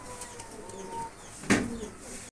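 Pigeons on a pigeon farm housing racer and other fancy breeds, with a faint low cooing at the start and one louder, closer burst of bird call and flutter midway, alone without talk.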